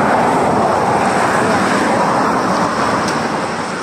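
Heavy road traffic with many cars passing, a dense steady roar of engines and tyres close by with no break.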